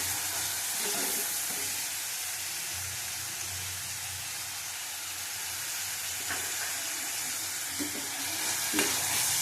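Onion fries in a pan with a steady, even broadband sizzle that holds without break, with a few faint clinks late on.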